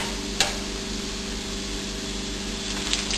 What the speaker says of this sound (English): it will help the dumplings to fry easily, so the oil will seep easy through the dumplings